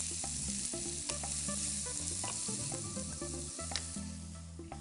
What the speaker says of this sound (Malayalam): കടുക് പൊട്ടി, ഇനി ഇതിനകത്തോട്ട് ഞാൻ എന്റെ ഉള്ളി ഇടുവാണേ.